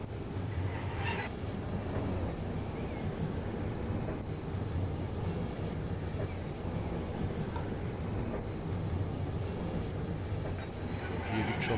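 A train pulling into a station in the EEP railway simulator game, heard as a steady low rumble of rolling stock that holds at an even level throughout, with a faint voice now and then underneath.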